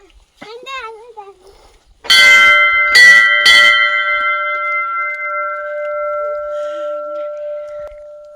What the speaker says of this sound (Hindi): बजाओ घंटी बजाओ।